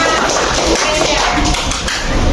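A classroom group applauds a student, many hands clapping in a dense, steady patter for a couple of seconds, with voices mixed into the noise.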